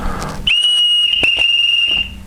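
A single loud, steady high-pitched whistle tone from a traditional Ukrainian clay whistle, held for about a second and a half, clear and piercing, with a soft breathy hiss around it.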